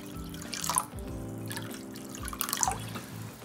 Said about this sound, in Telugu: ఇప్పుడు మనకి రసం ఎంత కావాలనో అంత వాటర్ పోసుకుంటా